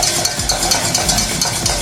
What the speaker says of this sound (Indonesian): Nah ini diaduk aja gini tuh.